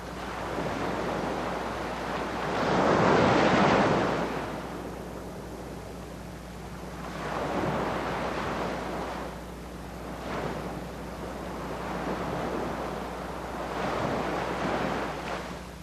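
Ocean surf rolls onto Nantucket's outer beach, with waves breaking in slow, repeated swells that rise and fade every few seconds under steady wind.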